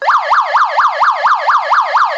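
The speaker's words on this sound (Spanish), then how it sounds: "incluso controlar una sirena" A siren on a radio-controlled model, switched from an RC transmitter, wails steadily in fast rising and falling sweeps, loud and alone, repeating about eight cycles.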